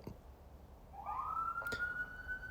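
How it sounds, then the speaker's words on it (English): A distant police siren rises and then holds a long, steady wail, faint against quiet background noise. "Oh, siren."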